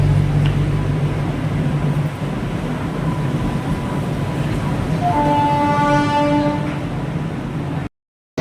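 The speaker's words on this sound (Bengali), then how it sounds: "আমাদের এসি ট্রেন চলে এলো" A Mumbai AC local train pulls in with a loud steady rumble, and a long horn blast sounds near the end before the audio cuts briefly.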